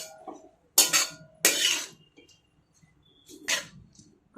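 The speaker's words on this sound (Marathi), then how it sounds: "भाजी अशी छान परतून घेऊयात आपण।" Vegetables being stirred and sautéed in a pan, a few bursts of scraping and clinking from a utensil against the pan, separated by near silence.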